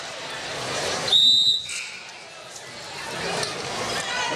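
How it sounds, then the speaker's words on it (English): A referee's whistle calls a personal foul at a basketball tournament game, one sharp, loud blast lasting about half a second over gym crowd noise and a commentator's voice. "I believe Larson will get whistled for the personal with under 1 minute to play in the first half."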